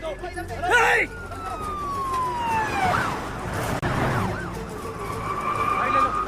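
A police siren wails and sweeps up and down through steady traffic and background noise, fairly loud and close throughout.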